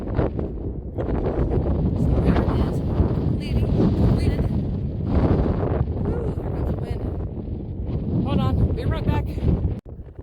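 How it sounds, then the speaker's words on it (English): Wind blowing hard across a microphone outdoors beside a fiberglass truck shell fitted with solar panels, a loud steady rumbling buffet that runs almost the whole time and stops abruptly near the end, with a voice speaking over it. "I hope that wind isn't going crazy."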